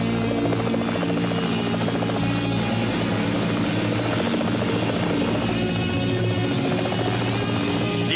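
A police helicopter flies overhead during a roadside pursuit in California, its rotor thumping in a loud, steady, continuous drone that fills the scene without letup.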